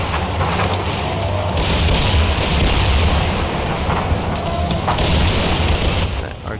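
Artillery and cannon fire from a large Empire: Total War multiplayer battle, heard as a dense, continuous roar of overlapping booms and crackling volleys that stays loud throughout.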